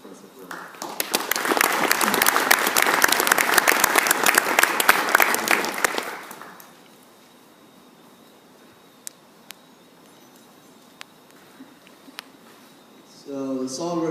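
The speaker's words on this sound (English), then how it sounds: "join me in a round of applause for Professor Correa" An audience claps for a professor during a student engineering presentation of a barn scraper project. Steady applause fills about six seconds, then fades into a quiet room before a voice starts speaking at the end.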